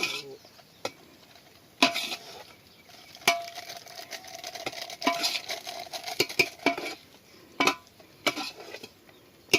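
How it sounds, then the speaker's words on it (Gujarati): Masala being stirred into poha in a pan, with irregular metal scrapes and clinks of a spoon against the pan separated by quieter stretches, close by, with faint background voices. "મસાલો નાખો અંદર પેલો થોડું હલાવો એટલે બધું મિક્સ થઈ જાય"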